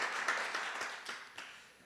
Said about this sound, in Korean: 우리 해피 버스데이 하면서 박수 한번 칠까요?